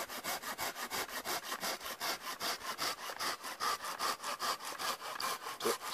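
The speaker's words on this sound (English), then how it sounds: "cutting with this saw" A hand saw cuts firewood in steady, fast back-and-forth strokes, each stroke a crisp rasping burst, close and even throughout with no talk.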